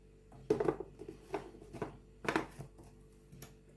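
Hot spicy peppers and onions being minced with a knife on a board, a few separate sharp chopping taps in uneven bursts, fairly close and with no talk.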